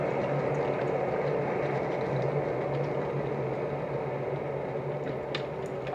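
Boiling water from an electric dispenser kettle rushes and bubbles steadily into a cup, a continuous close liquid noise that holds evenly throughout with no voices.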